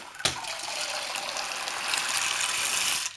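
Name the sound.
water poured over chickpeas for soaking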